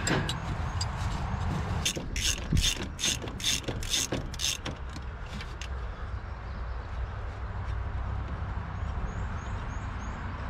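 A ratchet wrench turns a bolt on an abandoned 1967 Ford Galaxie 500, giving a quick burst of loud, close clicking. Steady background noise continues after the clicking stops.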